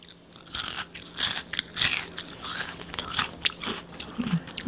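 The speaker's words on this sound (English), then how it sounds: "I want y'all to hear this crunch" Crunchy food bitten and chewed up close during a double cheeseburger mukbang, a run of sharp crisp crunches and chewing smacks over several seconds, with no talking.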